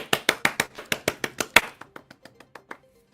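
A sharp burst of applause-style clapping for a commercial segment, about fifteen quick hand claps in a steady rhythm, loud and close at first, then thinning out and fading into softer, sparser claps.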